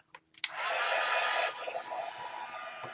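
A hair dryer blows over an art journal page, starting after a couple of brief clicks and then running as a loud, steady, close whooshing whir that eases slightly partway through and continues to the end.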